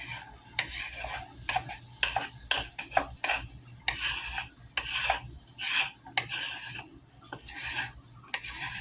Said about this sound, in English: veggies put into that grease so they can slowly saute